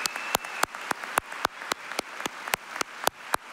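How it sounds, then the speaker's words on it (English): A small group claps for sponsors at a 2016 LifeBridge Health gala, about a dozen distinct claps in a fairly regular rhythm, close and crisp over a quiet room. "Please join me in a round of applause for all of our top sponsors."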